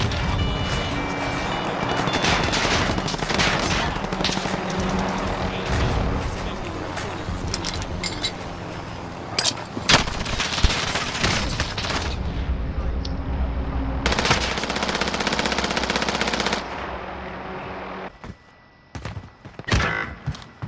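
Video game gunfire during a battle royale-style match with a tower: dense bursts of automatic shots and rattling fire, loud and continuous for most of the stretch, with players talking over the action.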